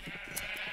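A sheep bleats in Minecraft, one short, faint, wavering bleat crowded among other penned sheep.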